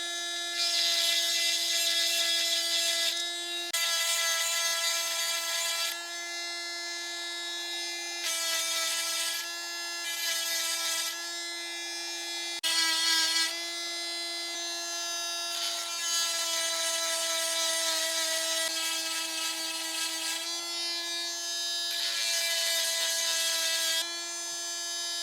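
A sharpener is run back and forth across a blade, giving loud, sustained tonal grinding passes that start and stop repeatedly, with brief gaps between strokes and no talk.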